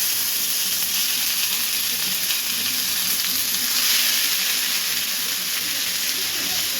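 Ground tomato with black cumin fries in hot oil for a Bengali eggplant dish, a loud, steady sizzle and hiss that continues without a break.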